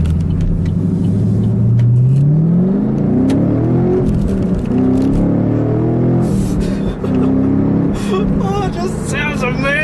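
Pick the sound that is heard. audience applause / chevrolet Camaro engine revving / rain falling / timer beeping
chevrolet Camaro engine revving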